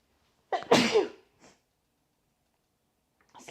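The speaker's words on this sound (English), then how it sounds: "Oh no, I'm going to sneeze." One loud, close sneeze with a sharp intake and burst, followed by a faint sniff and then quiet, with breath or a murmur starting at the end.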